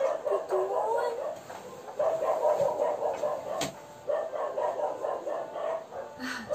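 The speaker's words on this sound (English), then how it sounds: "Even the dogs are barking because they're angry." Dogs bark and yip in repeated bursts, moderately near, with whimpering tones between barks and no talking.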